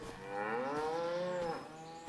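A cow on a dairy farm in the video game Farming Simulator 25 gives one long, drawn-out moo with a rising and falling pitch, clear and alone against a quiet background.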